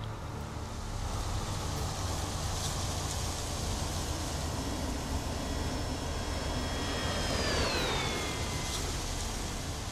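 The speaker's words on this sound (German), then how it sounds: "Okay, da landet ein Flugzeug." An airplane lands in the video game Airport Firefighter Simulator 2013 with a continuous broad engine roar, and a high whine slides downward in pitch near the end, with no talking.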